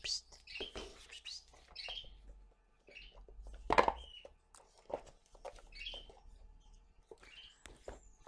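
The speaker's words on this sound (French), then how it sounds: "C'est l'oiseau." Brief bird chirps recur through a quiet indoor room, including one sharper, louder call near the middle, with a low hum beneath and no talking.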